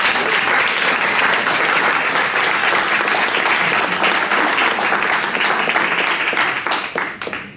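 A poetry competition audience at a semifinal in Valencia gives a strong, sustained round of applause, dense and close, fading out at the end.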